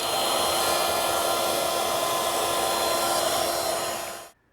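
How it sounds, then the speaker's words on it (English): Router table with a 1/2 inch half round bit rounding over wooden table pieces, giving a loud, steady high-pitched whine that holds for about four seconds, then cuts off abruptly. "So over at the router table, I've set up a 1/2 inch half round bit,"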